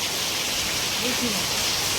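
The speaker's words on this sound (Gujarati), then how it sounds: "અત્યારે વરસાદી ધબધબાટી આવે છે વરસાદ અત્યારે ચાલુ છે" Heavy rain pours down in windy weather, filling everything with a loud, unbroken hiss. A faint voice can just be made out under the downpour.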